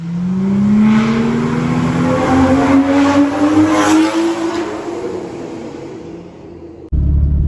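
A modified BMW with an aftermarket exhaust revs slowly while stationary in a tunnel, a loud booming drone whose pitch climbs steadily and echoes before dropping off and cutting abruptly near the end.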